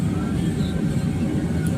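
Steady, loud low-pitched engine roar of an airplane climbing after takeoff from Ahmedabad, a constant drone filling the whole stretch without a break.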